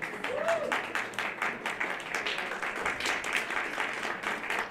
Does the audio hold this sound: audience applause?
yes